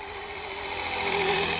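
A Blade 230S V2 RC helicopter fitted with a Microheli kit flies nearby, its steady high-pitched motor and rotor whine rising slightly in loudness.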